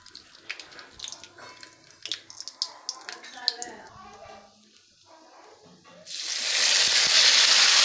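Mustard and fenugreek seeds pop and crackle sharply, then hot oil bursts into a loud, steady sizzle that continues to the end; a voice speaks briefly near the start.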